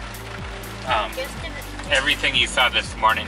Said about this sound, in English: it has not stopped raining like we hoped it would